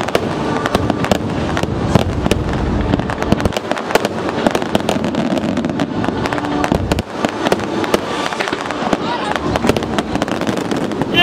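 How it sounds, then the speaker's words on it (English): Fireworks burst at Walt Disney World in a dense, rapid string of loud cracks and booms that continues throughout, with people talking underneath. "It really feels like there should be some fireworks here or something."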